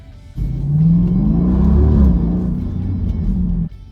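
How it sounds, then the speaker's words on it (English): A Jeep Grand Cherokee SRT engine revs up and holds at a deep, rumbling exhaust roar for about three seconds, then cuts off abruptly. "They're gonna want to hear the exhaust note."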